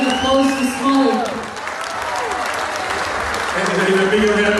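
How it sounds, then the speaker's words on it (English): An audience claps in steady, full applause at a live event, with a voice speaking over it through most of the stretch. "And even bigger round of applause for him after putting up with it."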